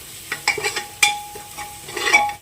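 Chicken masala and biryani masala powders being stirred in a pressure cooker, with a spoon scraping and knocking against the metal in several short strokes, close by with no talk.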